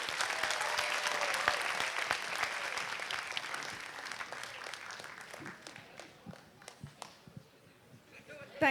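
Audience applause for the batch of 1970 at a college alumni reunion entertainment evening: sustained dense clapping from a crowd that gradually thins out into scattered claps toward the end.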